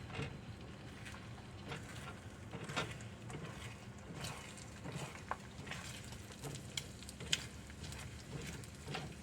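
Eggs sizzle and fry in olive oil in a pan on a stovetop burner, a steady low crackle with scattered pops and occasional clinks, moderately quiet and close, with no talking.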